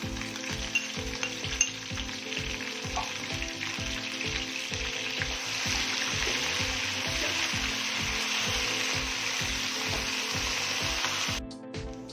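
Steady loud sizzling of garlic, ginger and green chili paste frying in hot oil, with a regular rhythmic scraping of stirring underneath and a faint clink near the start.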